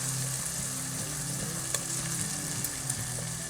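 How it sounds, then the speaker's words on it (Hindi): Fresh peas frying in a pan over a high flame, giving a dense, even sizzle with a few faint stirring taps, steady and close throughout. "हाई फ्लेम पे आपने मटरों को फ्राई करना है"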